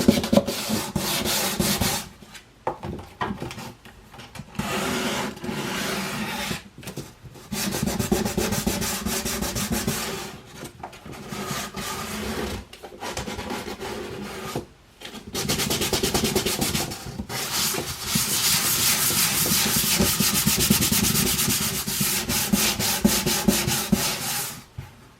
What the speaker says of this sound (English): Maybe just a quick sand too.